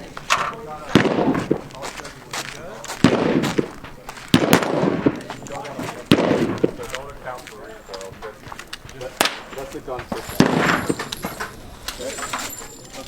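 Suppressed M16 rifle fire at an outdoor shooting range in Colorado, a series of sharp muffled shots in irregular bursts, fairly close, with people talking between them.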